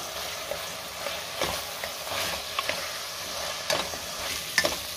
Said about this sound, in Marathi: पुन्हा आपण 1 मिनिटभर व्यवस्थित परतून घेऊयात भाज्या।